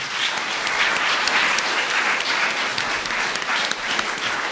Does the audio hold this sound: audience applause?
yes